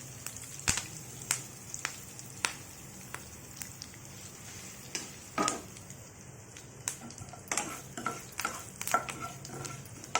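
Cumin and mustard seeds sizzle in hot oil for a ridge gourd gravy curry, with a steady frying hiss broken by sharp clicks and scrapes of a spoon stirring the pan.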